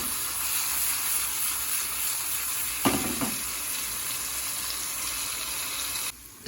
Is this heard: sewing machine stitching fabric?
no